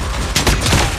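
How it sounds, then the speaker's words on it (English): A napalm strike in Call of Duty Mobile lands as a loud burst of roaring, crackling explosive blasts that swell and rumble over about a second, close and dominant. "Friendly napalm deployed."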